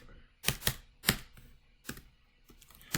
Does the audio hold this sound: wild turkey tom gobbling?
no